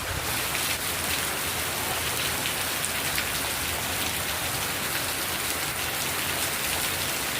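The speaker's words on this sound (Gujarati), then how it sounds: "વરસાદ એને જોરદાર ચાલુ થઈ ગયો" Heavy rain hisses down on a market street in Thangadh in a dense, unbroken roar that stays constant and loud throughout.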